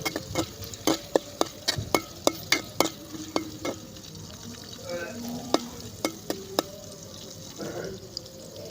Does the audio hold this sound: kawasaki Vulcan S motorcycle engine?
no